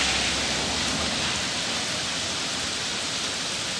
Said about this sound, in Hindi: और ठीक उसी समय मिथिला में जोर से बारिश हुई